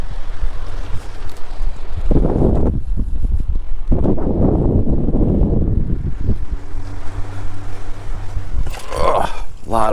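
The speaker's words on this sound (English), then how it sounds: "I hope that wind is being blocked today" Wind gusting hard across the microphone on the concrete and rebar-strewn shore at Port Mahon, roaring in uneven bursts with a person talking during it.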